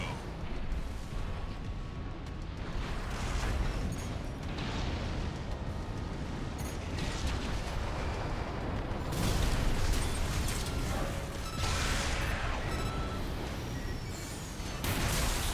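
Continuous gunfire and rumbling explosions in Armored Core VI roar through, dense bursts and booms layered together, growing heavier partway through.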